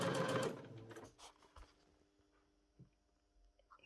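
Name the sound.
sewing machine sewing curved edge of hood pieces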